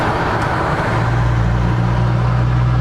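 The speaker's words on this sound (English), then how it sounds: "A lot of traffic, a lot of cars." Busy road traffic on the way to Kennewick, many cars passing close by in a dense, loud, continuous roar with a steady low rumble and no voices.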